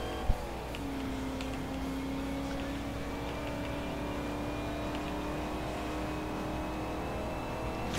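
Dodge Charger 70 racing in Forza Horizon 2, its engine holding a steady, sustained drone with a slowly rising tone after a brief knock at the start.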